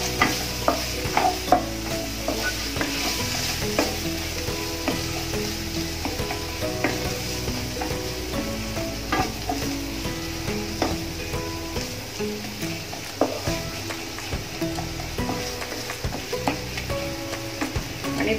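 Chopped large onion sizzling and being stirred in a pan while cooking dry moong bean usal, a steady fry with frequent scraping clicks of the spoon throughout, close and fairly loud with no talking.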